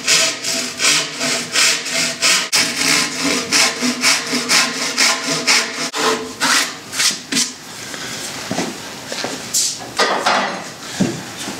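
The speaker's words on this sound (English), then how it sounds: "I can use a handsaw to saw down and define the two edges" Handsaw cutting down timber to define the edges of a timber-frame floor joist joint, loud rhythmic back-and-forth rasping strokes in a steady series, close up, ending with a few slower, scattered strokes.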